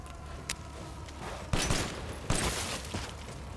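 Pistol fire in Resident Evil Village, with two sharp shots standing out clearly from a rumbling game background and a couple of fainter pops around them.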